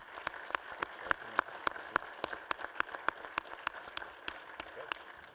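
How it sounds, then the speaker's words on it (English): Sparse applause from a small audience at a panel discussion on modeling and simulation for joint training, separate distinct claps in an irregular rhythm, fairly faint and thin throughout. "So if you give the round of applause for the audience members."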